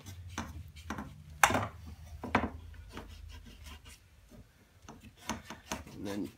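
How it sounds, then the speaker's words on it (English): Surface being roughened by hand so epoxy will stick: faint, irregular scratchy rubbing and rasping strokes, a few sharper scrapes scattered across several seconds, heard close and quiet. "just roughen it up a little bit to where the epoxy has a surface to stick to"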